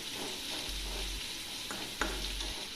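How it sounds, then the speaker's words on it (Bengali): Chopped carrots sizzle and fry steadily in a pan for fried rice made from leftover rice, with a couple of brief spatula stirs and scrapes breaking through the continuous hiss. "গাজর কুচি দিয়ে কিছুক্ষণ ভেজে নেব।"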